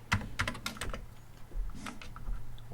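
Quick, close typing on a computer keyboard with some worn keys, used while setting up an Amiga emulation computer; irregular bursts of crisp key clicks with short pauses between them.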